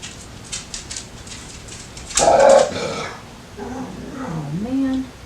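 Dogs growl and vocalise indoors during a makeup try-on, a loud burst of growling followed by whiny, rising dog sounds, with someone talking around them.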